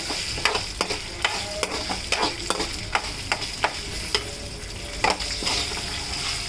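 Curry leaves frying in hot oil in a pan for pulihora, with steady sizzling and a rhythmic series of sharp clinks and scrapes as a spoon stirs them, close up and with no talk.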